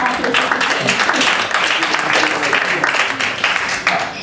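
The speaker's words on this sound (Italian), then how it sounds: "E facciamo un applauso anche a lui" Crowd applause at a protest gathering: dense, steady clapping that holds for the whole stretch, fairly loud and close, with voices mixed in underneath.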